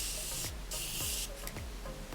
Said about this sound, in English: So I like to use my Morphe setting spray.